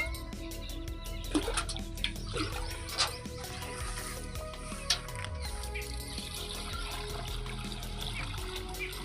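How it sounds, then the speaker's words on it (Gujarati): Water runs steadily into a pesticide sprayer pump tank, a faint continuous trickle and gurgle with a few louder splashes and knocks. "જો ગઈ પંપ ભરાય છે"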